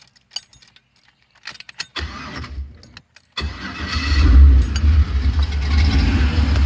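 A 1985 Chevy S10 Blazer cranks over and fires up after a few faint clicks and jangling keys, then settles into a loud, steady idle close by.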